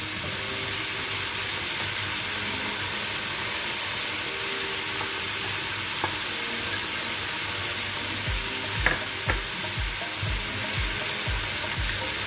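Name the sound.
salted mustard greens frying with shrimp in pan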